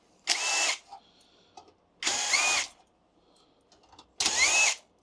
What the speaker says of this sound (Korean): 나사 4개 풀어서 제거해 주고요